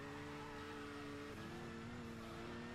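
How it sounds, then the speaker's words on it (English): Race car engine from Gran Turismo 6 on the PS3, running on the Nürburgring, droning steadily and loudly with a sustained mid-pitched tone that shifts pitch slightly partway through, heard alone without talk. "Maybe the cars just normally make this noise"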